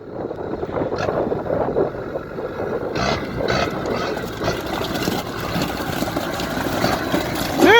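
A Sherp amphibious vehicle's engine rumbles steadily as it reverses out on a frozen lake, with wind buffeting the microphone and some clunks and squeaks near the end.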